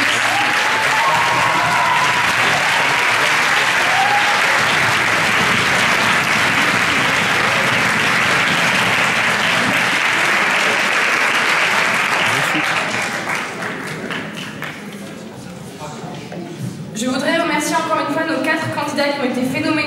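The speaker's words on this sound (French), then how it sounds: "je demande un tonnerre d'applaudissements à Sarah," A thunderous round of audience applause rings out at a public-speaking contest final's results ceremony, sustained dense clapping for about twelve seconds, then easing as a voice speaks over the hall.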